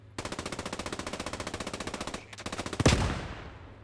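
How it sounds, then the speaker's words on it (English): Rapid machine gun bursts in Post Scriptum, a World War II shooter, close and loud: an evenly paced stream of shots, a short break, more rounds, then a heavy blast that fades out. "They can hear the MGs that are firing close."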